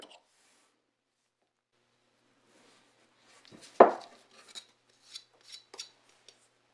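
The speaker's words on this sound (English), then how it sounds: "the copper layer is cored using a carbide tipped scribe" A carbide-tipped scribe scores the copper layer of a board: after a quiet start, one sharp scraping stroke followed by several shorter rasping scratches, close and fairly faint, with no talk.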